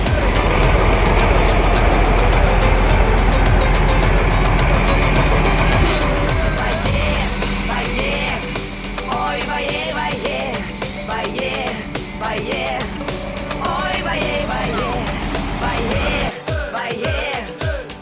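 A train on a Norwegian line rolls in loudly with heavy low rumble and shrill wheel squeal, the roar easing after several seconds while squeaks and clatter continue before a final thump.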